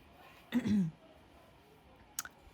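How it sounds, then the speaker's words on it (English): A single short throaty cough or throat clearing, close and fairly loud, followed by quiet and a faint brief click. "I still have this cough."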